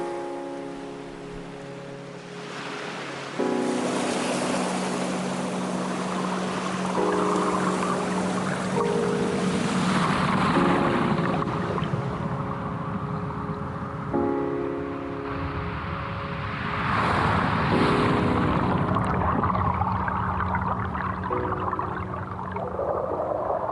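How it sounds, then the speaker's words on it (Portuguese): Water currents wash over pebbles and sand underwater in a steady, dense hiss and rumble, with low tonal hums and occasional shifting surges running throughout. "ouve o deslocamento do fluxo das correntes, o som da água sobre os seixos e a areia"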